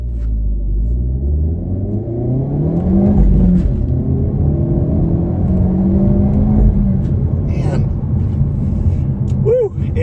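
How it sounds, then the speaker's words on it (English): Hyundai Elantra N engine revving hard, a rising and falling turbocharged drone with rumbling gear pulls and a few sharp exhaust pops near the end, loud and close, with a voice speaking over it. "you get the pops, you get the turbo sounds"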